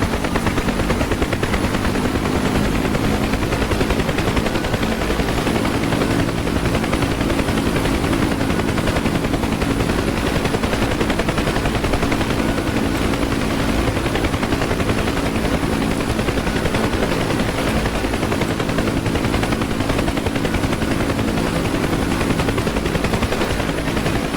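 Bell UH-1 Huey helicopter in the DCS flight simulator, its rotor thudding steadily as RPM builds, a loud continuous drone with layered engine whine throughout.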